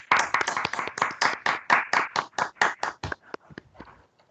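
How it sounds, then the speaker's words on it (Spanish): Applause at the close of a plenary session of an economics conference, a small group clapping in a clear, rhythmic run of distinct claps that thins out and fades into scattered final claps. "Aplauso general. Aplauso Muchas general. gracias. Aplauso general."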